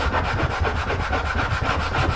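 Wooden support edges sanded all around during Boulle marquetry glue preparation, a steady rhythmic scraping rub repeating in quick even strokes, close and continuous throughout.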